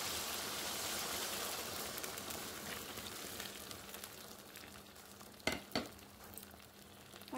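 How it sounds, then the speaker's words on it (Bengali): Cornflour water goes into sizzling chilli chicken masala in a pan: a soft, even sizzle runs throughout, broken near the end by two short, sharp spits, quiet and with no voices. "এখন কর্নফ্লাওয়ারগুলো জলটা দিয়ে দেবো।"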